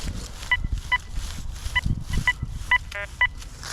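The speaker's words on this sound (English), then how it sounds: "A little signal I found with the Deus" Short bright beeping signal tones from a Deus II metal detector, several repeated chirps spaced about half a second apart over faint outdoor background rumble, with one quick rising tone near the end.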